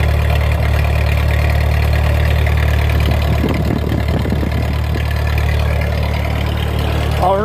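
A 1951 Ford 8N tractor engine runs steadily close by, its loud low chugging rumble holding constant throughout.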